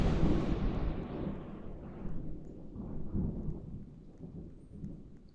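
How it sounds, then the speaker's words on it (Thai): A strong lightning strike in a Roblox game sets off a booming crack of thunder that fades into a long, low rolling rumble with rain-like hiss, with no talking. "โอ้เฮ้ยฟ้าผ่าแรงมากฮะ"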